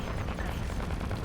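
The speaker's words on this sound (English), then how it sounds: "That looks like that is the Colossus with his flak cannons" Flak cannons on the Colossus fire in a steady, rapid barrage of booming shots in a video game, dense and continuous at moderate loudness, with no voices.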